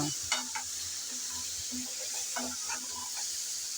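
Okra frying with onion in an uncovered pan sizzles steadily while a spatula scrapes and knocks against the metal in short irregular strokes, up close and moderately loud.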